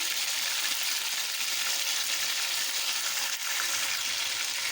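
Beef mince (qeema) sizzles steadily in a pan with salt as it is stirred, a continuous close frying hiss with faint scraping and no talk.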